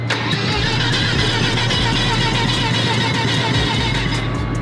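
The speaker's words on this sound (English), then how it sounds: "We'll see if it starts up right away now." A Mazda RX-7 rotary engine cranks and runs loudly and roughly, a steady throbbing drone with uneven pulses, close by and without talk.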